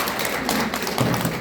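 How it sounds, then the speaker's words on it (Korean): Audience applause at a Korean university lecture, steady dense clapping from a room of listeners, fairly loud and continuous with no speech over it. "박수 한번 있습니다."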